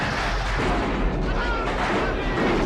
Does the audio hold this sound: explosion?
yes